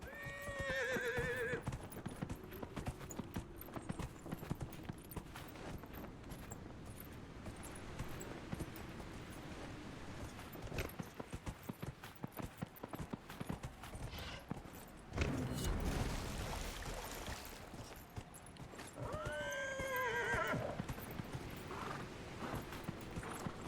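A horse in the Dragon Age: Inquisition video game neighs at the start and again near the end while steady hooves clip-clop throughout, loud and close under a busy game soundscape.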